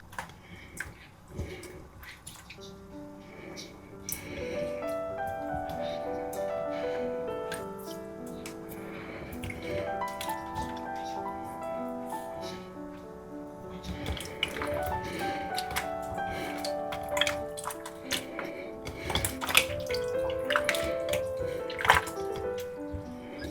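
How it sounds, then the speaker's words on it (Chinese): Winter melon pieces rinsed under clean running water to wash off salt, a steady splashing flow with drips and clinks from a sink, fairly close, with faint kitchen music underneath. "用清水把冬瓜表面的盐分冲洗干净。"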